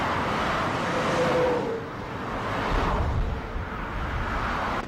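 Steady broadband rumble of highway traffic with passing vehicles swelling and fading, continuous and moderately loud, no voices.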